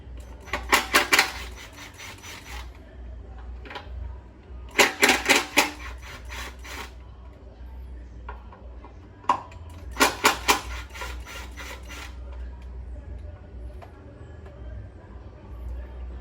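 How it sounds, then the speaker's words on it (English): Bolts being unbolted from the fuel pump on a Harley Sportster fuel tank, heard as three short bursts of rapid metallic ratcheting clicks separated by pauses, with a few faint single clicks and a low steady hum underneath. "We're gonna unbolt our fuel pump from the tank."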